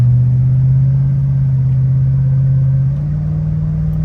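Engine of a 1996 Land Rover Discovery (D1) under kickdown, a loud steady low drone with a slight shift in pitch near the end, heard from inside the vehicle without talk.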